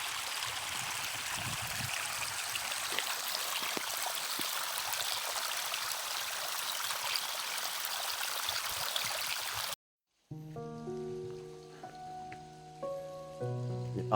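Warm spring water flows steadily into whitish limestone pools in Tuscany, a continuous near splashing wash that runs for most of the clip before cutting abruptly to other sound.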